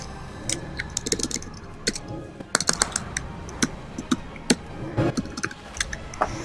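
Rapid, irregular clicking of computer keyboard keys, quiet and close, with short bursts and pauses during an online game session.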